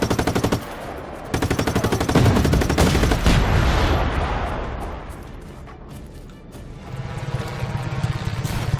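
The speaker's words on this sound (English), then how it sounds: "Why so much shooting?" Loud, sustained automatic gunfire from the video game Just Cause 3, dense rapid bursts layered with heavy shooting and booms, nearly continuous throughout with a brief lull before firing resumes.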